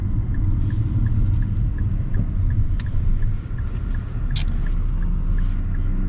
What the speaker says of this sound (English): We're gonna get our acceleration here